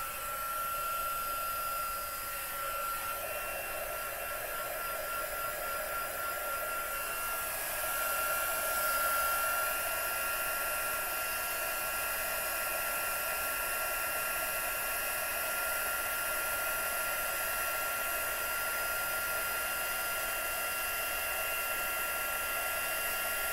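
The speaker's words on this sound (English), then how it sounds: "let's go ahead and heat emboss this" A heat embossing tool blows continuously as it melts embossing powder, giving a steady, close, hair-dryer-like whine that holds unchanged throughout.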